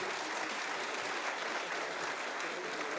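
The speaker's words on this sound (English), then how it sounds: "Member of the Senate from the Czech Republic, please stand up and receive our applause" An audience applauds members of the Czech Senate at a trade and investment forum, with continuous, even clapping that sounds somewhat distant and fairly quiet throughout.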